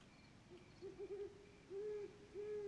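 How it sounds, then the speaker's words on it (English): In a video game's nighttime outdoor scene, a bird repeats a hooting call that sounds like a monkey, a few rising, wavering notes in short bursts over faint ambient background. "That sounded like a monkey, but it's actually a bird."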